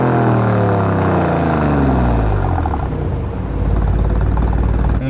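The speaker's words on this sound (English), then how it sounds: "the exhaust note has changed from when it was in regular drive mode to now in race" Loud, throaty exhaust from a 2017 Alfa Romeo Giulia Quadrifoglio in race mode, a steady rumbling roar that rises in pitch as the engine revs, then settles into a rough, continuous drone.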